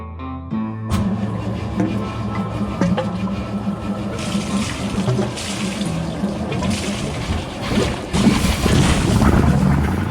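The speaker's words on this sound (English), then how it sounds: "it is nice to hear that sweet engine exhaust music." A Chris Craft boat engine running during winterizing, its low rumbling exhaust steady and close, with watery splashing and gusty noise rising over it in the second half.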